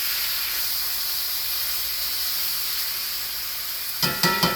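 Pot roast browning in a hot pan, a steady hissing sizzle throughout, joined near the end by a few louder crackling pops as the meat settles.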